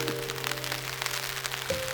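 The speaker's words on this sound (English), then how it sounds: "It's currently raining, if you can tell" Steady rain patters at Portobello Market in London, an even, continuous hiss of drops on surfaces outdoors with a low hum running beneath it.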